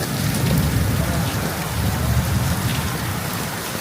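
Heavy rain pours down near a roadside tea stall, a steady, dense hiss with no clear break for the length of the clip.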